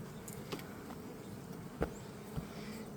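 Honeybees buzz around hive frames being moved during a hive split outdoors, a faint, wavering drone with a few louder passes of individual bees close by.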